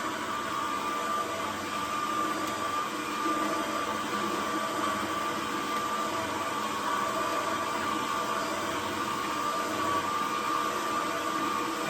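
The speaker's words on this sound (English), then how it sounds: "It's a pretty good juicer, seeing as how dry the spinach is." A juicer grinding dry spinach gives a steady, loud whirring motor drone with a constant tone and no pauses throughout.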